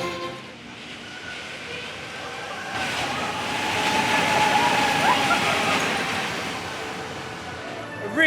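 Grottenblitz runaway mine train coaster at Heide Park rumbling past, a rolling rush that swells to a loud peak midway then fades, with faint crowd noise around it.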